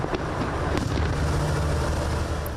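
Fireworks burst over Egypt at the opening celebration of the Grand Egyptian Museum, a continuous rumbling roar of distant booms and crackle blending into one dense, steady wash of low explosive noise.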